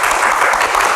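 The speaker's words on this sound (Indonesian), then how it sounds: "kita berikan tepuk tangan yang paling meriah untuk panelis yang sudah hadir di Q&A malam ini" A crowd at a Q&A panel discussion gives steady, loud applause, with dense clapping throughout.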